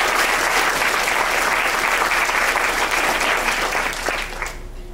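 Loud, dense applause from a crowd at a university fraternity probate show, a continuous wall of clapping that holds steady for several seconds before dropping off sharply at the end.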